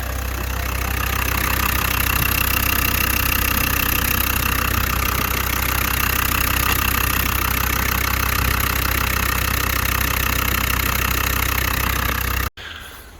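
A Land Rover Td5 diesel engine idles steadily while warming up after a fuel cooler repair, its constant nearby rumble continuing unbroken until a sudden cut near the end.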